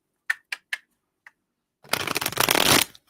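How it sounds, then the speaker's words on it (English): Tarot cards are tapped a few times, then riffled in a quick, close, crisp shuffle lasting about a second, with no talking. "I shuffled these cards."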